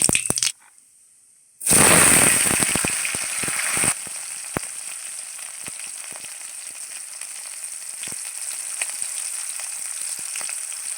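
Suji pitha batter dropped into hot oil bursts into a loud, close sizzle after a brief silence, then settles into steady crackling frying with scattered pops.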